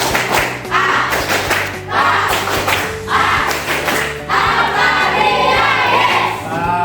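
A group of people clapping a rhythmic patterned chant during a classroom session, repeated bursts of synchronized claps in a steady beat, loud and close, with voices chanting along.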